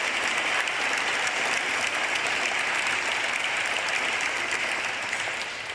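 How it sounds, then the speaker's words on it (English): A council meeting audience applauds students, teachers, staff and admin, a steady, dense clapping that holds evenly for the whole stretch with no voices over it. "can I get one more round of applause for these wonderful students, teachers, and staff, and admin that are here?"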